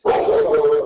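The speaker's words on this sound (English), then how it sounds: "excuse my dog" A dog barks loudly indoors in one sustained, harsh burst, close by during a phone conversation.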